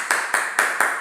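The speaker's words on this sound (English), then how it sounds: "Give yourselves a clap." A classroom of students claps in four quick, loud, evenly spaced bursts, crisp and close, with no talking over them.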